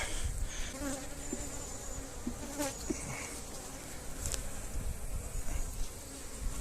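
Honeybees swarm over a brood frame of eggs and larvae lifted from a hive during colony splitting, a continuous close buzzing hum with individual bees droning past the microphone now and then, and no speech.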